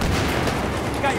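Dense gunfire in the Battlefield 3 video game, a loud continuous rattle of shots filling a brief moment of combat.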